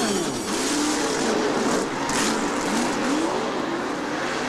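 Race car engines roar continuously at a 1989 NASCAR Cup race, the Pannill Sweatshirts 500, with a wavering pitch as a car spins around on the track amid a dense, loud crowd and track din.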